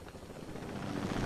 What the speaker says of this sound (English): Oh, let's take the helicopter.